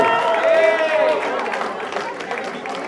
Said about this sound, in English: give a big round of applause for all the moms for whatever they do